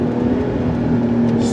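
A supercharged Lotus Emira sports car engine drones steadily from inside the cabin, a loud, even tone with a slight rise in pitch near the end, and no talking over it.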